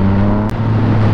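A Yamaha MT-09 motorcycle engine on a test ride gives a loud, continuous close-up drone with steady low rumble and wind noise, broken only by a split-second dropout.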